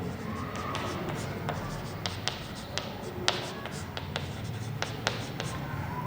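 Chalk or marker taps and scratches on a board as mathematics equations are written during a lecture, with irregular sharp ticks of varied loudness over a soft room hum.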